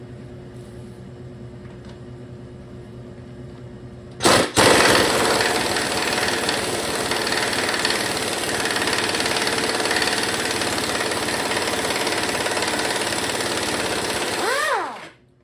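A 1978 Ford Mustang II engine cranks and catches, then runs with a loud, steady, rough-textured drone for about ten seconds before shutting off with a falling whine at the end.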